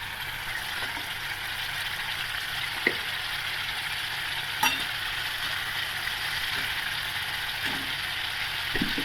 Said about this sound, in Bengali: মশলাটাকে এবার ভালো করে ভেজে নেব